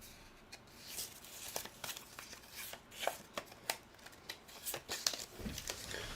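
Activation cards shuffled by hand for a solo tabletop game, heard as a series of quiet, close riffling and flicking bursts at an uneven rhythm.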